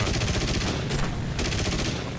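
Rapid, dense machine-gun fire from a 12.7mm aircraft gun in the War Thunder video game, a continuous loud rattle running through the whole burst with a brief lull partway in.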